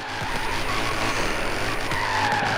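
A BMW M3 drifts in Forza Horizon 3, its tyres skidding and squealing in a loud, sustained screech over the engine's drone.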